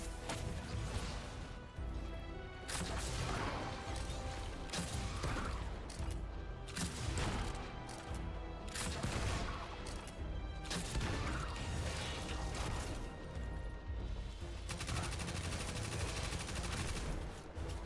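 Gunfire from weapons in the video game Destiny 2, a dense run of loud blasts and impacts pounding on without break, with crashes layered over game sound and no talk.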